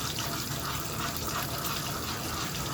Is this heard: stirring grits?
yes